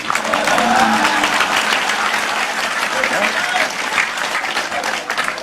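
An audience at a Javanese religious talk claps loudly and continuously, a close, dense burst of applause with murmuring voices mixed underneath.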